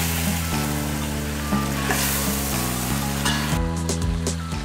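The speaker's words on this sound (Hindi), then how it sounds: "मैरिनेटेड चिकन शामिल करें और अच्छी तरह भूनें।" Marinated chicken fries with ginger and garlic paste in a hot pan, a steady loud sizzle over a background of music, with a few stirring scrapes near the end.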